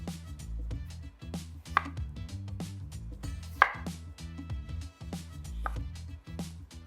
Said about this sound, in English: Next up is the potatoes. So you want some thin slices,